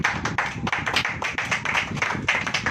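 A church congregation clapping hands together in a fast, steady rhythm, many palms close and loud, continuous over a few seconds with no talk.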